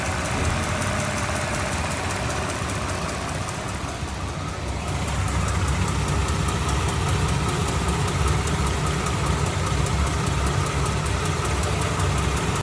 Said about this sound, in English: let's listen to the engine when it was ticking around so you get an idea of how it was